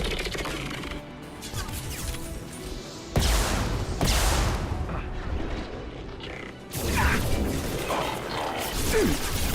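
Combat gunfire in Mass Effect 2, a dense, continuous barrage of shots and impacts with crashing bursts that swell around three and seven seconds, with game voices mixed in.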